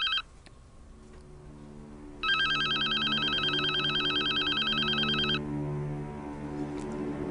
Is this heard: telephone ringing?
yes